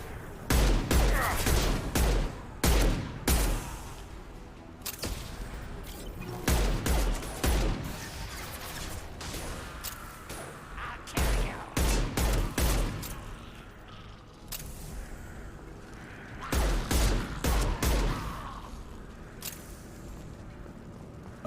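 Weapon fire in Mass Effect Legendary Edition arrives in repeated short bursts of sharp shots separated by brief pauses, loud and close, continuing across the whole stretch.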